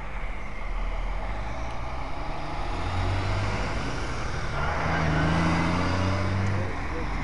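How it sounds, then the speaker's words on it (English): Highway traffic, including big rigs, rolls past at a Virginia roadside, a continuous loud roar and rumble of engines and tires that swells as heavier vehicles pass close by. "There's traffic going by right here."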